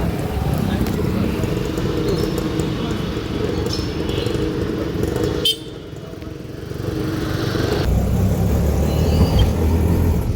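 An auto rickshaw ride heading toward Sai Teerth Theme Park in Shirdi, with the engine's continuous close rumble and road noise, which dips briefly midway and then resumes, while people talk over it.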